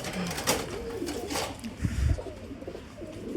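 High-flying Giribaz pigeons coo in a loft where eggs and a breeding pair are kept, a low soft cooing with brief wing and background noises, close and moderate in loudness.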